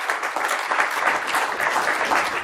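A conference crowd applauds a presenter after a successful Wi-Fi backdoor demo, a dense, steady wash of clapping that holds evenly throughout without talk.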